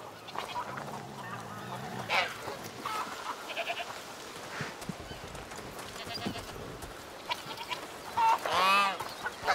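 A goat bleats in a video game, giving a few short, nasal calls among soft game sounds, with the clearest bleat near the end.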